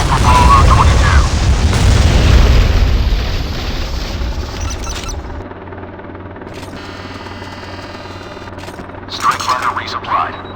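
Warship missile launch and explosions in the naval video game Modern Warships: a loud roaring rumble that fades out over several seconds, followed by quieter electronic tones and a short burst of game noise, with a radio-style voice speaking.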